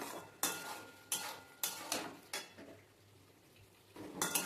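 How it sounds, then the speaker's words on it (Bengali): Boiled potato and pointed gourd sautéed in a pan, heard as several sharp metallic clanks and scrapes of a spoon against the pan over a quiet sizzle, close by, with no speech. "এবার কিছুক্ষণ একটু কষিয়ে নেবো"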